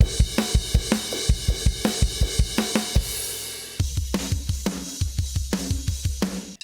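A drum kit plays a steady groove, kick and hi-hat ticking evenly with snare cracks on beats 2 and 4; a brief pause midway before the pattern resumes.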